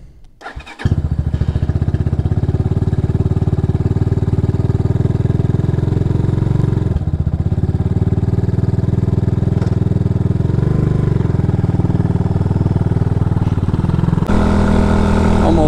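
A motorcycle fitted with a 28mm Keihin carburetor idles close by and loud, its steady, even chug starting about a second in and running without a break.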